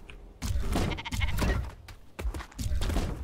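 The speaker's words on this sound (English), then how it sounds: "Hey, we even get a sheep." A sheep in the video game Atlas bleats several times in quick succession, loud and close, each cry a drawn-out wavering call separated by brief gaps.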